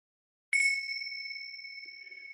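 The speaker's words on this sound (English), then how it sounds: "even though I have rung the bells" A single meditation bell is struck once and rings out clear and close, its pure tone sustaining and slowly fading over about two seconds in an otherwise quiet room.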